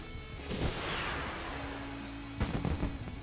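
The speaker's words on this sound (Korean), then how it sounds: "폭죽이 이렇게 터집니다." Fireworks burst during the World of Warcraft moon festival, with a loud crackling blast followed by a rushing fade, then a second burst near the end over steady game ambience.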